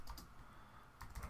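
Quick clicking of computer keyboard keys while entering a chat command in Minecraft, a short burst of close taps, a pause, then another cluster of keystrokes.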